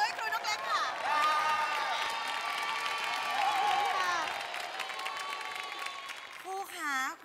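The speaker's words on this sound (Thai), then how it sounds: "ขอเสียงปรบมือให้ครูนกเล็กค่ะ" A studio audience at a Thai television show claps and cheers for a teacher, with tonal voices or music running over the sustained applause throughout.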